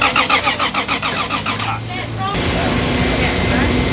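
A methanol-fueled race car engine cranks with a rapid, rhythmic starter chug, then catches and bursts into a loud, rough, sustained roar up close, with voices in the background.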